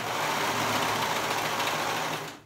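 A sewing machine runs steadily, stitching fabric for a wrap top, with a fast even mechanical whir that stops abruptly at the end.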